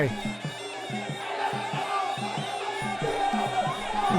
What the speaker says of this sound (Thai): กองเชียร์เริ่มมาแล้วครับ เสียงกองเชียร์